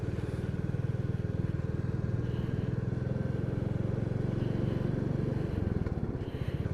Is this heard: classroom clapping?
no